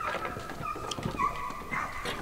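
A dog whines and gives short yips during agility training, the sounds coming in brief bursts over a busy outdoor background with faint voices.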